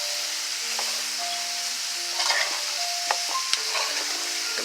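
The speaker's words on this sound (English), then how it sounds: "it's still stir frying very rapidly without the scheme of oil there" Rib tips stir-fry in a hot pan with a dense, steady sizzle and crackle, broken by a few sharp scrapes and clinks as they are stirred, with no talk over it.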